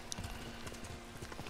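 Horse hooves clip-clopping in the samurai game Ghost of Tsushima, a steady run of repeated footfalls with no talk over them.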